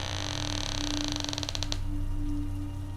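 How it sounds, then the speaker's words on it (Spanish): A door slowly creaks open in a long, rising, ratcheting creak of tightening clicks that fades out, heard alone over a steady low hum. "la puerta se abrió lentamente,"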